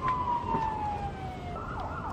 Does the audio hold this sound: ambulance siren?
yes